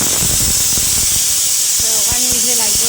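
A pressure cooker vents steam with a loud, continuous hiss, close by and filling the whole moment, while someone talks over it.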